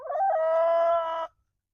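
A single chicken gives one drawn-out, tonal vocal call lasting about a second, close and loud, then silence.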